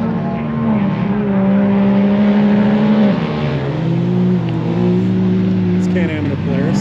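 Can-Am off-road vehicles take off at a race start in the desert at King of the Hammers, a loud, steady engine roar that rises and shifts in pitch as they accelerate, with people talking over it.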